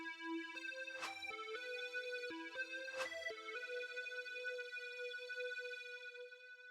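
Darkwave synth lead hook layered on an OB-X synthesizer, a bright sustained melody stepping through held notes with a couple of sharp accents, smooth and fairly soft with no talking.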